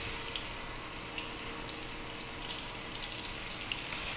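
Cevapi frying in a pan of hot oil, giving a steady, soft sizzle that stays even throughout with a few faint pops and crackles, with no voices over it.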